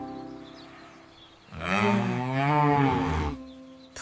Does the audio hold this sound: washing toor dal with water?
no